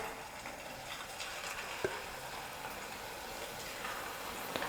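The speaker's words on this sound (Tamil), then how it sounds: "இப்போ நம்ம எண்ணெயில் பொரிச்சிக்கலாம்." Potato snack balls fry in hot oil, giving a steady, close crackling sizzle with occasional sharper pops throughout.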